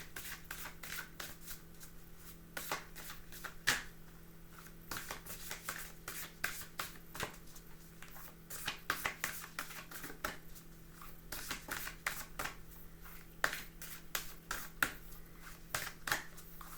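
Tarot cards are shuffled quietly and close by, producing repeated crisp riffles and soft slaps in an uneven rhythm over a faint steady hum, with no talking.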